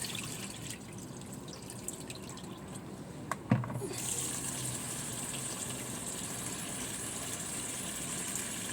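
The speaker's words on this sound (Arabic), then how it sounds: "كده انا هشطف القمح كذا مره" Wheat grains being rinsed in water in a home kitchen, with a steady wash of running water and a brief splash partway through before the flow settles into a continuous, even rush.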